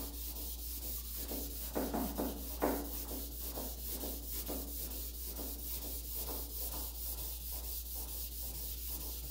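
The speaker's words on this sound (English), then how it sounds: "That's the front edge of the block of wood catching the high point." Steady back-and-forth hand sanding of an old Steinway piano case with a wood block, a continuous close rasping rub with faint rhythmic ticks as the block's edge catches a high spot, over a low hum.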